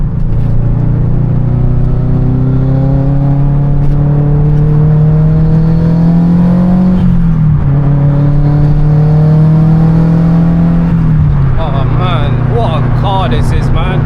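A 500 bhp Subaru estate cruises with a steady low engine drone and whirring road noise inside the cabin. The pitch rises slightly, dips and settles again, and the sound stays loud and close throughout.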